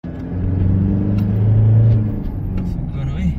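A car fitted with a BP remap and a Bidot exhaust idles with a deep, steady rumble that swells briefly as if revved, then settles, heard close with people chatting over it.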